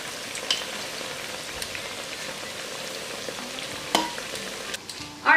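Pork chicharrones fry in hot grease, giving a steady, fairly quiet crackling sizzle with a few sharper pops and a brief louder clatter at the end.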